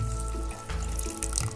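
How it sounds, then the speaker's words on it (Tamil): Tamarind water poured into a pot of avaraikai peanut sambar makes a close, continuous splashing trickle that stays loud for the whole short moment, with no voices. "அடுத்து இதில் புளி தண்ணி ஆட் பண்ணுறேங்க."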